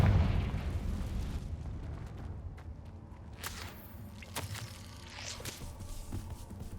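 A Confringo explosion spell cast in Hogwarts Legacy: a loud blast at the start decays into rumbling, with scattered smaller pops and impacts following at moderate volume and no talking.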